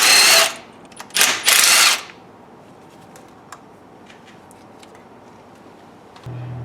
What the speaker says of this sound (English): we're drilling holes in the thermostat